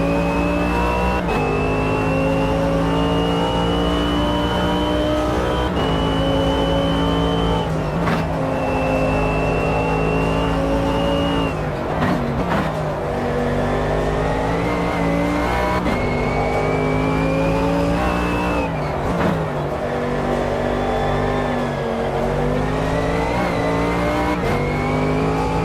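A race car engine in the Automobilista 2 sim racing game revs loud and close for the whole stretch, climbing in pitch and dropping sharply at several gear shifts.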